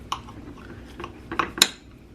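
A knife cuts into a freshly baked homemade quiche at tea time, giving a few soft scrapes and clinks of the blade against the dish, with sharper taps near the end, close and fairly quiet with no talk.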